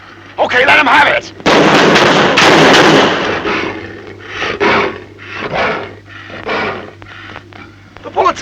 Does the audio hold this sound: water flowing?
no